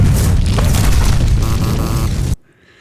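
A starship crashes into a planet and explodes in a loud, sustained rumbling boom that fills the whole moment before cutting off abruptly into near silence.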